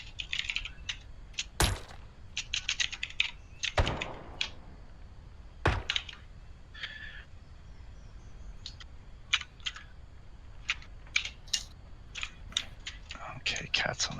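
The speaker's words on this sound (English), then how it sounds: "Okay, cat's on the keyboard." A cat walking across a computer keyboard during a Fractured Veil game session, sending irregular bursts of soft key clicks and clatter with a few sharper knocks, close by. Faint talk is mixed in.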